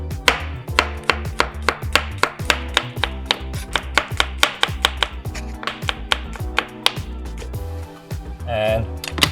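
Knife thinly slicing five garlic cloves on a cutting board, sharp rapid taps in a fast steady rhythm, close and crisp, slowing briefly near the end.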